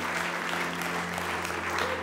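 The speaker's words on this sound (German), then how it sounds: "können wir all den Leuten einen riesen Applaus geben, die sich entschieden haben." Congregation applause at a Hillsong Germany church service: a dense, steady wash of clapping lasting about two seconds, with a low hum underneath.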